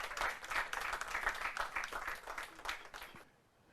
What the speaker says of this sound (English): please, a round of applause for our contestants.